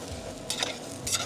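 A spatula scrapes and stirs in a saucepan, two short scratchy strokes against the bottom of the pan while cooking a shrimp velouté, against a faint background hiss.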